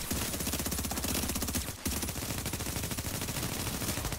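Rapid automatic gunfire from a weapon in the video game Last Stand, a steady dense rattle of shots running nearly the whole time with one brief pause, fairly quiet and without speech.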